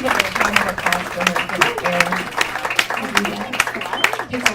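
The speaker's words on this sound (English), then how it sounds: "let's give a round of applause for" An audience at an inspirational talk claps briskly in a sharp, uneven patter, with a voice speaking over the applause throughout.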